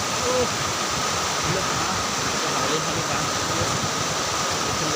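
Steady rushing water flows continuously, a broad even wash of sound like a river current, with faint voices in the background.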